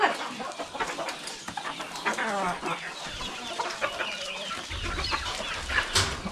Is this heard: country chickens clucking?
yes